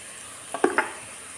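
Onion fries in a pan with chili flakes and pepper powder, a soft steady sizzle with two quick spoon clinks against the pan midway, close and brief.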